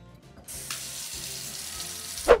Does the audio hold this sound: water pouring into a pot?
yes